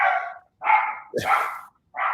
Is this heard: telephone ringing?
no